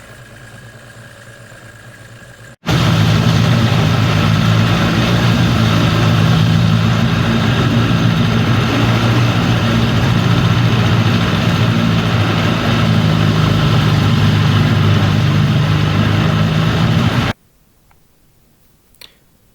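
A Mercury outboard motor, back running after a no-start fault was fixed with new spark plugs, idles loud and steady for about fifteen seconds with a constant droning hum. It starts abruptly and cuts off sharply, leaving quiet background.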